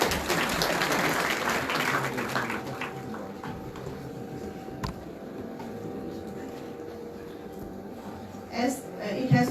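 An inauguration audience claps for dignitaries, a dense broadband patter of many hands filling the room near and steady, with a faint tone humming beneath and a brief louder burst near the end.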